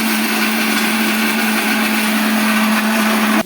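A mixer grinder whirs loud and steady, grinding a masala paste of ginger and roasted poppy seeds for a gravy, then cuts off abruptly just before the end.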